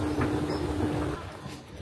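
A Vienna metro U1 train gives a loud, steady rumble and hum with a thin tonal whine that stops partway through, leaving a quieter, fading roar behind.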